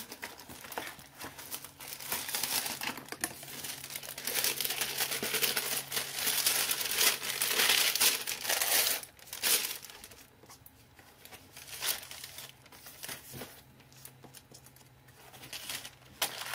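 Wax paper crinkles and rustles as it is handled at an art journaling table, a continuous crackling that builds loud for several seconds, then eases into softer, intermittent crinkles; no one speaks.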